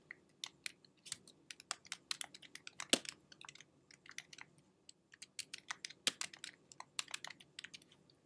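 Fingers tapping on a computer keyboard to enter text in a brochure layout, irregular bursts of quick, sharp clicks with brief pauses, close and fairly quiet with no talking.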